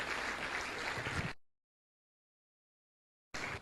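An audience breaks into loud, dense applause at a motivational seminar. The clapping breaks off abruptly after a little over a second, falls silent, and then resumes sharply just before the end.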